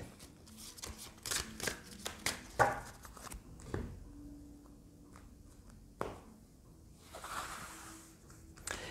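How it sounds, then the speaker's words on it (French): Playing cards are shuffled by hand in quick crisp riffles and soft slaps, fairly faint. Bursts come and go, with short quiet gaps between them. "pendant que je mélange les cartes"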